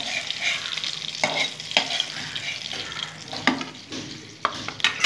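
Small chapila fish fry in hot oil in a pan, with a continuous crackling sizzle and occasional sharper scrapes as they are stirred and turned, all close by.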